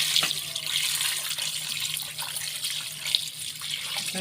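Tap water runs steadily as raw frog skins are rinsed after salting, a continuous close splashing hiss with a few small drips and clinks and no talking.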